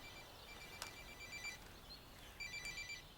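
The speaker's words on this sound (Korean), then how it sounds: "그때 세희에게서 전화가 오고" A telephone rings in two bursts of electronic trilling, faint and somewhat distant, over a low hiss with no talking.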